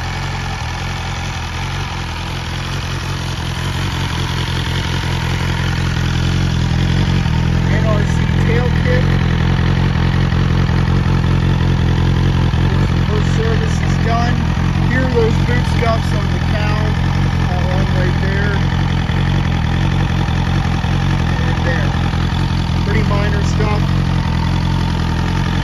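A 2022 BMW S1000R motorcycle with a sports exhaust idles close by, a steady low rumble that holds even for the whole stretch, with faint background voices and small clicks over it.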